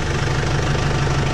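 A New Holland tractor's diesel engine idles steadily just after a cold start, a loud, close, continuous low rumble with a regular knocking pulse and no talk.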